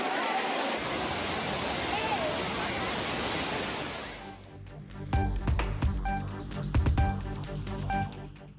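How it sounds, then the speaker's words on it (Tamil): Courtallam waterfalls crowded with bathing tourists, a loud, continuous rushing roar of falling water for about four seconds before it cuts away to music. "குற்றாலத்தில் உள்ள அருவிகளில் அலைமோதும் சுற்றுலா பயணிகள் கூட்டம்"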